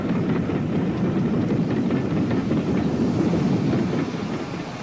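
Pannier tank steam locomotive running round its train on the last day of the Wye Valley line at Monmouth, a loud continuous rumble of wheels and rolling stock with wind buffeting, easing slightly near the end.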